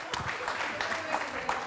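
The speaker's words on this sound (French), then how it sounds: "Aïcha, on applaudit pour Aïcha, s'il vous plaît." An audience applauds for a woman at a dating show event, a moderate burst of clapping mixed with voices talking over it.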